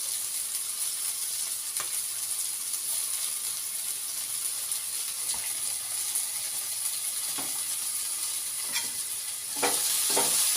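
Hotel-style pasta is stirred and fried in a pan with a continuous close sizzle and hiss, broken by occasional scrapes of a spoon against the pan.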